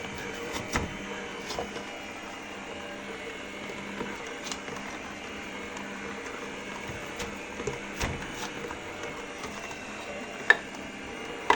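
A Tefal auger juicer pressing apples, giving a steady close mechanical drone with scattered clicks and knocks throughout and no voices.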